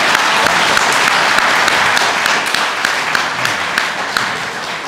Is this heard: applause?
yes